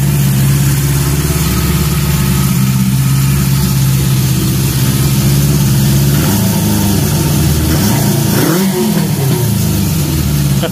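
A Honda engine warming up runs loud and close with a steady idle, then revs and rises in pitch before settling, with a brief surge near the end.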